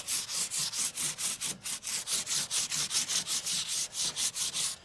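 Steady back-and-forth abrasive rubbing on the body of a 1972 Chevy C10 truck, about four strokes a second, close and continuous with no voices.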